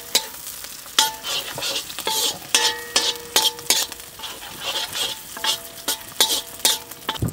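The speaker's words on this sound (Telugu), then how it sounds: "ఇప్పుడు పచ్చిమిర్చి వేసుకొని నిమిషం పాటు వేయించుకుందాం." Green chilies and garlic frying in hot oil, a close sizzle broken by sharp spatula clanks and stirring scrapes at an irregular rhythm, no voices.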